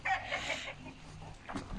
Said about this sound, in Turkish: Dışarıda var birkaç tavuk